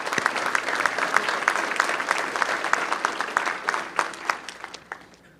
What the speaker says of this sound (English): please join me in supporting these businesses in a thank you round of applause